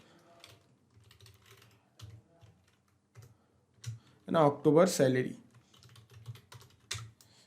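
Computer keyboard typing a folder name, soft key taps spread through the clip beneath a man's speech in Hindi.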